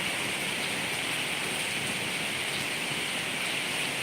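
Heavy rain falls steadily on surfaces, a dense, uniform hiss of drops that stays loud and constant throughout with no voices over it.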